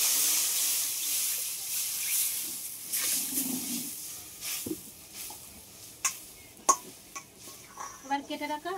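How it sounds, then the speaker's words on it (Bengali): Water poured into a hot wok after frying fish hisses loudly at first, then fades into softer bubbling and scattered clinks, with some faint voice sounds. "কড়াইয়ের মধ্যে জল দিয়ে দেবো।"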